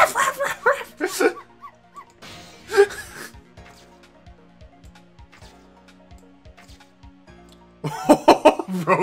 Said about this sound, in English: Missile, if you bark like that, you'll make the lady next door start howling.